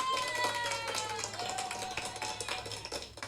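Applause sound effect from a live-streaming app, a short burst of clapping under tonal background audio with faint voices present.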